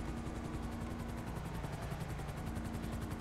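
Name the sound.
helicopter flying overhead in GTA video game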